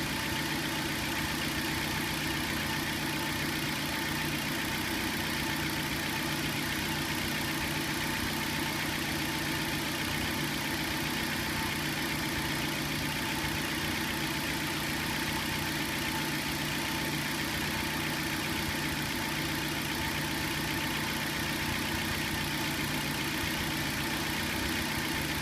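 A car engine idles during diagnostic checks, giving a steady, even hum with faint vibration that runs unbroken and alone, with no voices.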